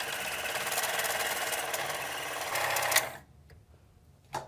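A sewing machine runs steadily, stitching fabric at close range for about three seconds, then stops, leaving near silence broken by a brief click at the end.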